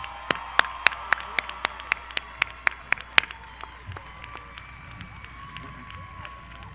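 Audience applause at a graduation ceremony: sparse, sharp individual claps ring out at a steady beat over a wider hall wash, then thin out into scattered, fainter claps.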